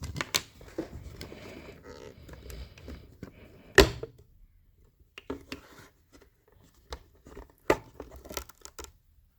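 Honda Civic power-folding side mirror glass pried off its plastic clips and light adhesive: rustling, scraping handling noise, then one sharp snap near the middle and a few scattered clicks afterward, close up.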